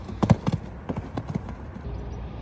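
A mare trots during a riding session, her hooves clip-clopping in a quick, uneven rhythm close by, with a few sharp louder strikes and no talking.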